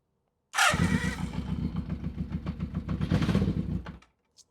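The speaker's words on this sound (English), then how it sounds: "Should I bump it over and see if we have any crankage?" A motorcycle that sat unused for thirty years is cranked over. The engine churns in a fast, rhythmic chugging burst for about three and a half seconds, close and loud, then cuts out.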